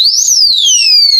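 A padlock's built-in alarm shrieks at close range, a loud piercing electronic tone that sweeps up and then slides down in pitch.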